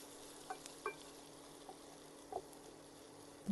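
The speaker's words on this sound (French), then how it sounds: "Et je viens mélanger." Pepper sauce being stirred in a pan, with quiet scraping and a few soft clinks over a low, steady sizzle and no talking.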